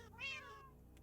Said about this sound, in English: that was cats you hear